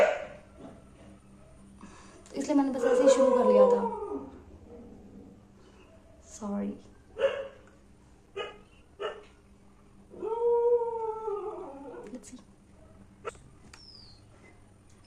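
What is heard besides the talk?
dogs barking and howling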